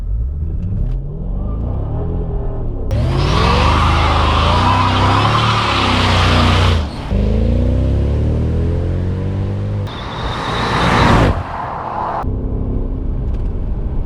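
A Mercedes W220 S55 AMG in sport mode with traction control off accelerates hard. Its loud, close engine roar climbs in pitch through several rising sweeps, with brief dips at the gear changes.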